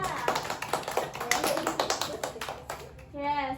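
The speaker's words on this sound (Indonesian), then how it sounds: "Tepuk tangan buat kelompok 2." A small classroom group claps briefly for group 2 during a microteaching lesson, a short burst of light hand claps fading before a voice resumes.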